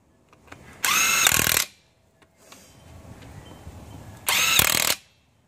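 A cordless 20 volt Porter-Cable impact gun fires two loud, close bursts, each under a second long, while lug nuts go onto a Chevy Silverado wheel hub, with quiet handling noise between bursts.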